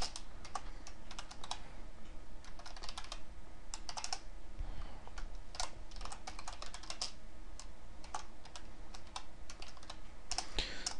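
Rapid bursts of typing on a computer keyboard, close and fairly quiet, with irregular clusters of key clicks separated by short pauses.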